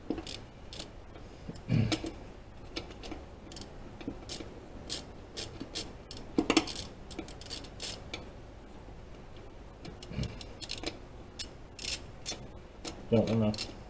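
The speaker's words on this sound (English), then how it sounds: "Thank God for angle sockets," Ratchet with an angle socket working loose the lower intake manifold bolts, producing a rapid clicking pawl in uneven bursts, with occasional heavier clunks as bolts break free and faint talk in the background.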